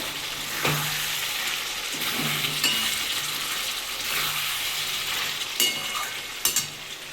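Chicken curry meat fries in oil in a pan with a steady, close sizzle throughout. A few faint stirring scrapes and clinks come through on top.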